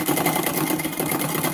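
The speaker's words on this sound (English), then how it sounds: "Plenty of noise coming out of that engine room" Engine room of an RC lumber hooker ship model running, giving off a steady, dense mechanical whir and buzz with no pauses, close and fairly loud.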